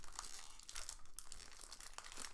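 Faint crinkling and tearing of taped, sealed paper packaging holding Star Wars trading cards, a continuous rustle with a few sharper rips, close by and fairly quiet.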